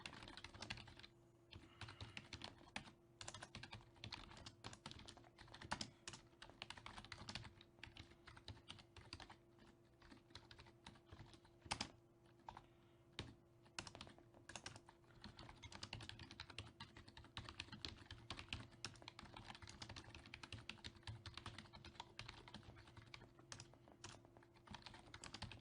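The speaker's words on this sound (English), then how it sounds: "So I'm just going to type away and get all these done." Steady typing on a computer keyboard while writing JavaFX import statements for a tic-tac-toe board program, continuous clicking keystrokes close up for the whole stretch, with no talking.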